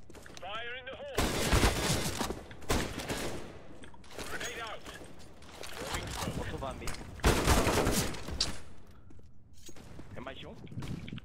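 Bursts of rapid video game gunfire crack out repeatedly, loud and close, in several volleys separated by brief pauses, with voices talking in between.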